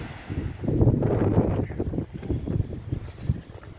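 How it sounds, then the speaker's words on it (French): Strong wind gusts buffet the microphone outdoors beside a parked camper van in Deauville, producing uneven low rumbling bursts that rise and fall, close and fairly loud, with no talking. "Il y a un vent pas possible."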